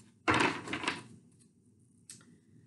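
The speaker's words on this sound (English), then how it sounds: "so I'm going to shuffle them a couple more times." A deck of cards is shuffled in a quiet room: a close, crisp riffle lasting under a second, then a brief single snap of cards a moment later.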